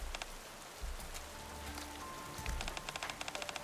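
Rain from the video game Nikke patters steadily on a surface, with scattered sharper drip taps and a faint tonal hum underneath, soft and close.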